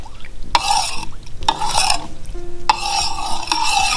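A utensil stirs General Tso chicken with a sprinkle of peppers in a pan, giving four or five distinct scraping strokes with metallic ringing over a faint background sizzle.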